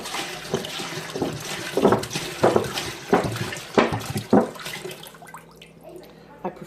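Filtered water runs loudly from a kitchen sink tap while kombucha is being made, a broadband splashing rush with irregular surges and knocks, under nearby talk, easing toward the end.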